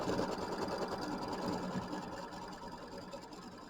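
A sewing machine stitches a tack-down line through quilt batting, making a rapid, steady mechanical whir at low volume that eases slightly toward the end.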